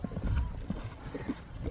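Horse hooves clip-clop in a loose, uneven rhythm on a hard surface, close by, with a faint voice now and then.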